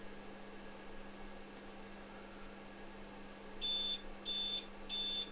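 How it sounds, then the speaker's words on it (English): A UPS in a home server lab beeps after losing power, sounding three evenly spaced, moderately loud tones over a low steady electrical hum, with no talking. "this is a normal beeping that it has no power"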